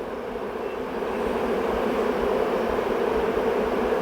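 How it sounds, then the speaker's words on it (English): Swarm of honeybees working their way back into a hive, a steady dense buzzing drone that swells slightly louder after the first second and holds continuous throughout. "They're working their way back in the hive now."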